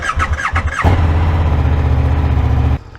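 A KTM 1390 Super Duke R motorcycle engine fires up with a short squeal, then settles into a loud, steady, rumbling idle close by before cutting off abruptly.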